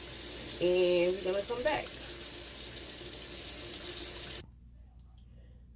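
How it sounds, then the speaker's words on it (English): A tap runs steadily while a wig piece is washed out, the water loud and close, with a voice speaking over it before the flow cuts off abruptly near the end. "I'm about to wash out this piece"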